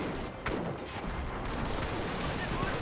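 MG42 machine gun firing in the Company of Heroes battle game, dense rapid gunfire and distant booms across a busy battlefield mix, with a commentator speaking over it.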